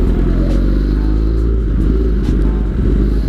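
A Kawasaki ZX-10R 1000 cc sport motorcycle fitted with a racing exhaust rumbles steadily and loudly at idle, a deep continuous drone with no revving and no talk.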